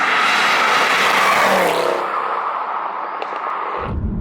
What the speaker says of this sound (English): But what you can't beat is the soundtrack of this car. That V8